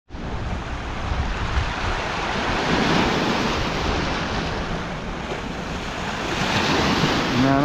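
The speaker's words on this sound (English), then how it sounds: "Man, I love waves." Ocean surf rolls and breaks steadily on a beach, a loud continuous wash of waves with wind buffeting the microphone throughout and no talking.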